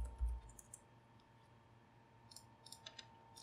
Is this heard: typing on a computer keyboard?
yes